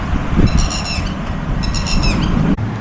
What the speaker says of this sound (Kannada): ಯಾವುದೋ ಪಕ್ಷಿ ಕೂಗ್ತಾ ಇದೆ.